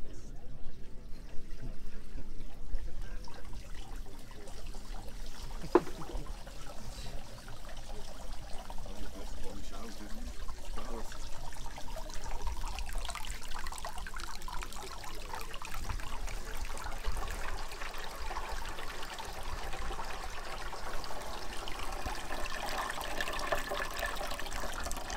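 Water is poured onto soil in an erosion simulator, a continuous splashing and trickling flow that runs for the whole stretch, with some background talk and handling noise.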